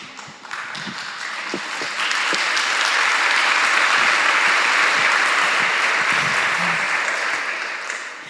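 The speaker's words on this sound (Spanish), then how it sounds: "Gracias por el aplauso," A church audience at a Holy Week gathering applauds: a dense, steady wash of clapping that swells after a couple of seconds, holds strong, then eases slightly near the end, with no speech over it.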